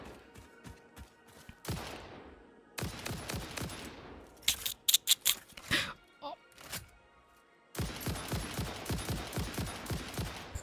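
Rapid bursts of weapon fire from the Satisfactory video game rebar gun rattle in several loud volleys, with sharp impacts and thuds between them, and a player's voice is heard over parts of the action.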